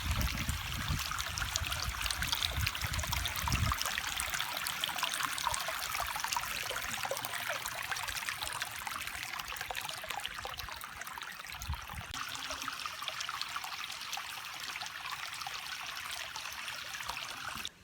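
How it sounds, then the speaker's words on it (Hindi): Near the Trail 5 hiking path in the Islamabad hills, a small mountain stream flows with a steady rushing trickle that stays constant throughout, and no voices are heard. "ये थोड़ा सा पानी आ रहा है, पहाड़ों की तरफ से ये पानी आ रहा है"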